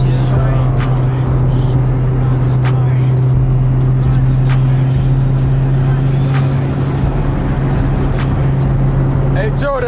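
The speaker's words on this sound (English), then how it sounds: "turbo sounds so crazy" A turbocharged car engine at a race meet drones steadily and loudly at close range, with a deep constant hum and no distinct rev sweeps, while voices talk over it.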